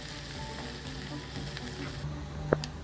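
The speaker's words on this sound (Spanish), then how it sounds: "Empezamos a sofreír así," Finely diced onion and garlic sauté over low heat for an Amazonian tacacho with palometa and fariña, giving a steady close sizzle with soft stirring and a single light clink near the end.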